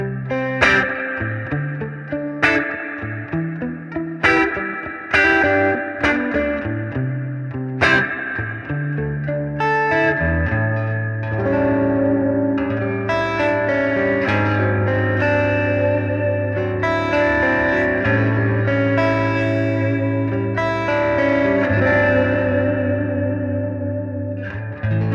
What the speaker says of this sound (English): It's a nice sounding reverb.